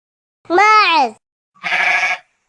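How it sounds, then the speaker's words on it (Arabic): A goat gives two loud, close bleats, the first a rising and falling wavering cry and the second a harsher, raspier call after a short pause. "ماعز"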